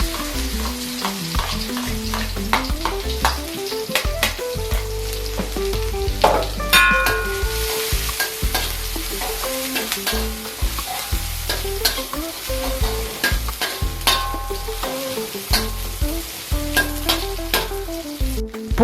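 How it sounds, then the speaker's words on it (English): Garlic and anchovies stir-fried in a pan, sizzling loudly and steadily with frequent scraping and clinking of a spatula against the pan throughout, and no talking. "stir fry the garlic and the anchovies"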